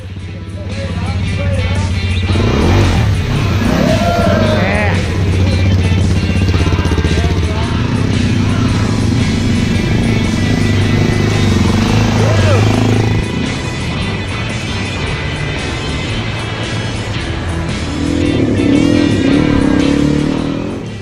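Motorcycle revving and labouring through deep, soupy mud on the Telegraph track in Cape York, the engine surging and dipping in bursts as it pushes through; loud, close, with rider's voice talking over parts of it.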